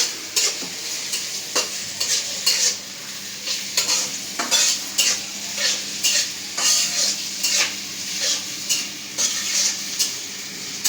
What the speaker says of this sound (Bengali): পেঁয়াজ মরিচ রসুন তেলের উপরে একটু ভেজে নিই